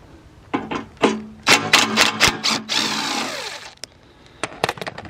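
A 13mm nut on a BMW engine mount is undone in a series of sharp mechanical bursts and rattling clicks, separated by short pauses, with one longer run of tool noise in the middle.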